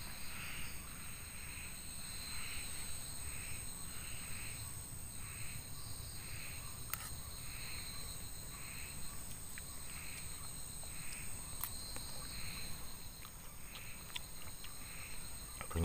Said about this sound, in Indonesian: Bunyi katak ataupun kodok ya.